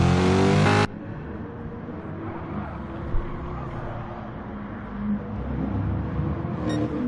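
A Corvette GT race car in a Gr3 racing game at Tsukuba pulls away from pit road, its engine droning steadily and fairly loud after a brief burst of harmonic sound at the start, with no talk over it.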